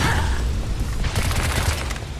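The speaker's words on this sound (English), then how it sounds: "that sword slash at the end kind of picks enemies up" Sword slash hitting and launching enemies into the air in the action game Bright Memory, heard as a busy burst of sharp impacts and booming hits over continuous game noise.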